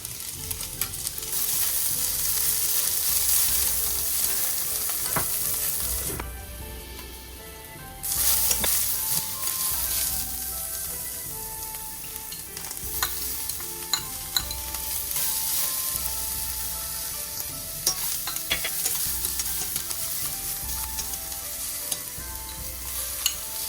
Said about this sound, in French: On fait griller l'ail et on ajoute petit à petit tous les légumes.